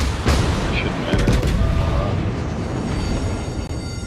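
Naval guns fire in a warship video game featuring the battleship Texas, with several sharp booming shots in the first seconds followed by rumbling battle noise and game sound effects.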